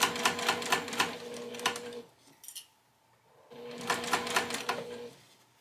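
Sewing machine stitching a tote bag seam in rapid rhythmic bursts, stopping briefly for a quiet pause with faint handling, then starting up again, close and moderately loud.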